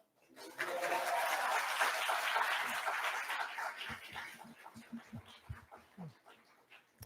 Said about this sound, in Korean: 박수 치도록 하겠습니다